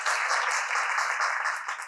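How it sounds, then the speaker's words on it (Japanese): Brief burst of audience applause greets a shamisen player and composer taking the stage at a morning talk event, dense clapping that fades slightly at the end. "どうぞ皆様、大きな拍手でお迎えください。"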